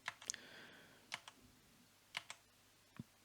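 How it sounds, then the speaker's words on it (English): Arrow key presses on a computer keyboard while moving a part in TinkerCAD, a handful of soft, close clicks spaced about a second apart in a quiet room. "I'll press the arrow button on my keyboard"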